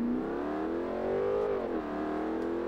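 A Pontiac GTO accelerates at Road America in the racing game Forza Motorsport, its engine revving loud and close with a rising, throaty pitch that dips briefly at a gear change before climbing again.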